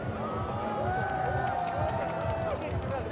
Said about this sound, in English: And a cheer now for David Kubacki.